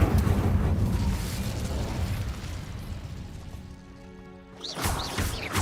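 A burst of Incendio fire magic in Hogwarts Legacy erupts with a loud crash and roar at the start, fading into a sustained rumble, then a fresh sharp burst of spell impacts near the end.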